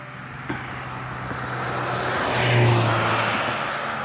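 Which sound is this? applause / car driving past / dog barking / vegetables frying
car driving past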